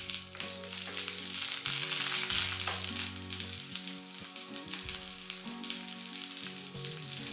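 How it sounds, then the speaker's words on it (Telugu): Ten chopped green chillies dropped into a tablespoon of hot oil for mint rice, hissing loudly in a steady, close sizzle that swells in the first seconds and then settles, with background music underneath. "వేడెక్కినటువంటి టేబుల్ స్పూన్ ఆయిల్లో 10 పచ్చిమిర్చిని కట్ చేసి వేస్తున్నాను"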